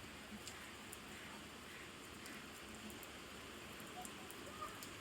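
Steady rain falling and growing heavier, a constant faint patter with no other sounds over it.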